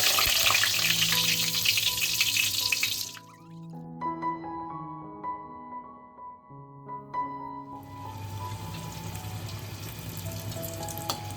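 Loud, dense sizzling of brinjal pieces frying in hot mustard oil. The hiss drops away for several seconds midway while soft music keeps playing throughout.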